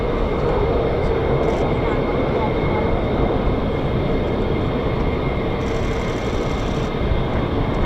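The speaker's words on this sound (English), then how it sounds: "So the aircraft is in idle, and then you'll hear the engine just start up again." A fighter jet's engine at RAF Lakenheath, home of the 48th Fighter Wing flying F-15s and F-35s, gives a loud, continuous, broadband roar that holds steady throughout with no clear break or restart.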